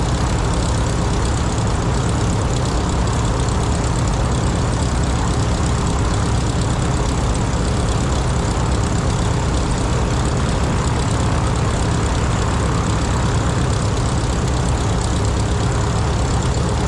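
Race plane 777 rolls up to the start of the AirVenture Cup Race with a loud, steady propeller engine drone that holds constant and close throughout.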